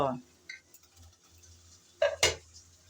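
Chopped tomato being stirred into koi fish curry in a pan: a couple of brief utensil clinks and scrapes at the start and end, separated by near-quiet.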